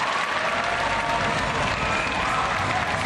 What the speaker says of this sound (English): The crowd with a loud cheer for both Namo Fazil and Jae Won-yoon.